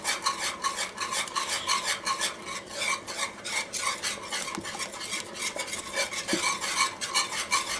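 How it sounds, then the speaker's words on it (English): Cornmeal mush is stirred in a cast iron pan, making a rhythmic, repeated scraping of utensil against iron with a soft sizzle underneath, fairly quiet and close, with no voices. "So get this into a nice stir"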